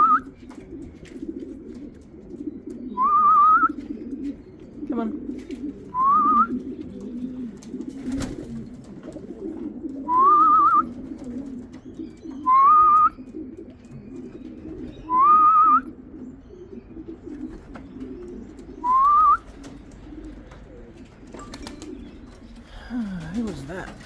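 White racing pigeons at a loft after a race give short cooing calls, about seven separate bursts spaced a few seconds apart, over a steady low background rumble and murmur.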